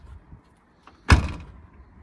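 A 1972 VW Beetle door shuts with a single solid thunk close by, ringing briefly and decaying after a quiet moment of faint shop noise.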